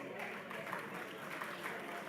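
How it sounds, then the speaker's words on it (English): An audience at a basic education conference gives sustained applause, a dense spread of clapping heard through a hall PA with a faint voice mixed in. "Give yourselves a big hand of applause."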